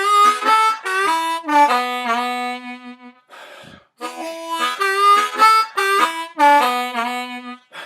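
Harmonica playing the closing line of a blues solo: loud, close, reedy bent phrases in two bursts separated by a brief breathy pause, played alone without talk.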